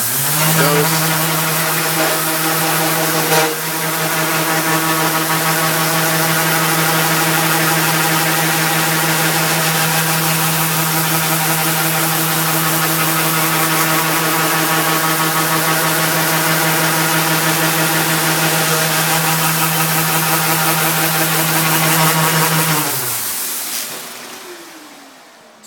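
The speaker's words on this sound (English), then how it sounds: "I get to turn it on, and it's going to sand itself." A Festool sander works over a cutting board with a steady, loud motor whine and buzzing hum that runs unbroken for about 23 seconds, then winds down and stops. No one speaks.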